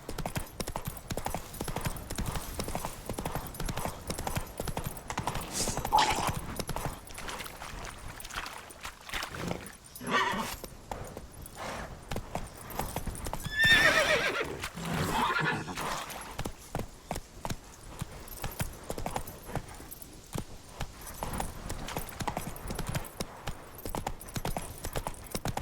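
Roach, Geralt's horse in The Witcher video game, gallops in a continuous rapid clip-clop of hooves that swells and fades, with brief snorts and wind in the background.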